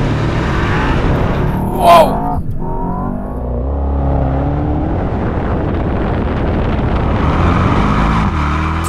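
A 2024 Mercedes-AMG S63 E-Performance accelerates hard with a rising, roaring rush heavily buffeted by wind noise, and a person gives a short excited shout early on.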